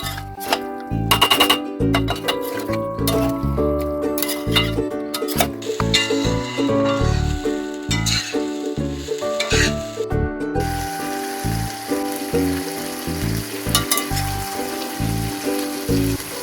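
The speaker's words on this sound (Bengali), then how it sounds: "এবার এর মধ্যে আমি মাংসটা দিয়ে দিচ্ছি মটনটা ভালো করে কষিয়ে নিচ্ছে" Mutton pieces sautéing in spiced oil for a goat curry with potatoes, a steady sizzle with scraping and clinking of a spatula against the pot, busier in the first half and settling into a continuous hiss; no talking.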